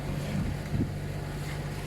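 A sailboat motoring under engine at about 1900 to 2000 rpm and 4.6 knots along the French Mediterranean coast: a steady low engine drone under continuous rushing wind and water noise.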